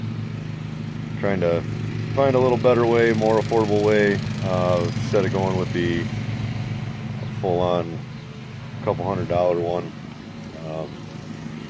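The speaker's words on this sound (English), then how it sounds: "as you can hear the lawn mowing in the background out here at the farm" A lawn mower runs at a farm as a steady low engine drone in the background, continuous beneath someone talking throughout.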